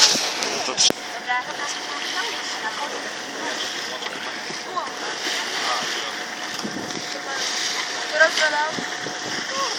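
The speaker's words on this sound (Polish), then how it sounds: "wykonujemy skręt w czasie naszego rejsu" Tour boat cruising and turning on the sea, with steady wind buffeting the microphone and water wash, while people talk over it.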